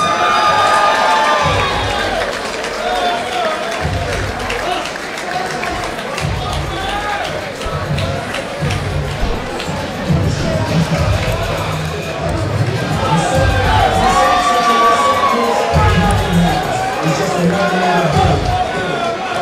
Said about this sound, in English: Please put your hands together for Paul Barrett